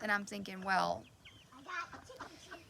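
Hens cluck at a homestead chicken coop, fairly close, in short throaty bursts mixed with someone talking.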